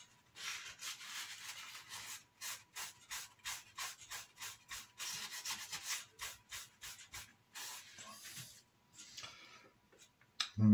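Excess glue is wiped off a truss bridge model with quick, rhythmic rubbing strokes, soft and close, in steady bursts that end with a brief knock.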